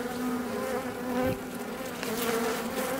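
Honey bees swarm and buzz steadily around a newly introduced queen, a dense, continuous insect drone close to the listener with no talking.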